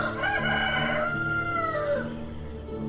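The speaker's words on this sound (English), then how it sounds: "Just then, a rooster crowed." A rooster crows once, loud and close, a long drawn-out call that trails off at the end.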